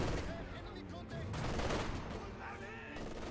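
An artillery barrage and gunfire in Company of Heroes 2 hitting Grenadiers, with dense overlapping explosions and rattling shots under a continuous roar of battle noise.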